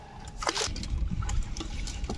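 Water dripping and trickling close by while a starfish is found in a fish trap; short splashy drips and a trickle fall in quick succession, with no talking.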